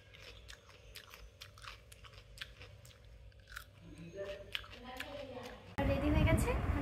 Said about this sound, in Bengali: এখন স্নান করে আমি খাচ্ছি হচ্ছে কাসুন্দি দিয়ে শসা